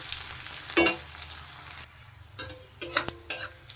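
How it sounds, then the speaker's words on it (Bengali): Chopped onions fry in a pan with a faint continuous sizzle, broken by several brief spatula scrapes and clinks against the pan, close and quiet, without speech. "পেঁয়াজগুলো একটু ভালো করে আমি ভেজে নেব প্রথমে।"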